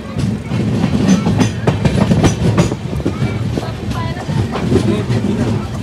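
The Ratnagiri passenger train rolls along the rails on a long journey, a loud continuous rumble with recurring clickety-clack beats from the wheels, and voices are heard faintly inside the carriage.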